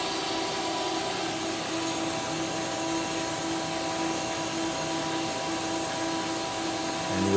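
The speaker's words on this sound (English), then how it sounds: "So we will come back over here and we will hit ream. Grip, spindle started." A machine spindle reams a workpiece with a steady, unbroken mechanical drone that holds at an even loudness throughout and rises slightly at the very end, with no voices.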